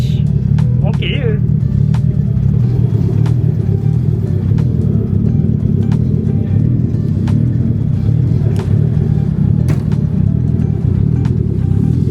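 Car engine warming up at the Art Of Speed event in Malaysia: a loud, steady idle rumble runs throughout with slight rises in revs, while people talk over it and brief clicks recur.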